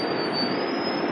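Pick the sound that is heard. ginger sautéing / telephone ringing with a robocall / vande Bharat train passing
vande Bharat train passing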